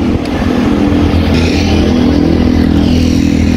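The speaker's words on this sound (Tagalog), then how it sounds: "Grabing tunog ng sasakyan na yun, guys." A vehicle engine revs hard and loud near a bridge at night, with a steady, heavy low rumble holding throughout and no voices over it.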